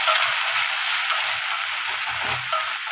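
Tomato puree being stirred into a frying pan for red sauce pasta, giving a steady, close sizzle with faint low scraping thuds throughout and no talking.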